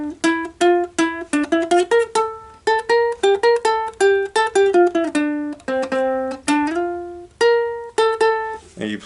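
A ukulele plucks a quick, bouncy melody riff, a busy run of bright single notes with a few held tones and short gaps, played solo and close.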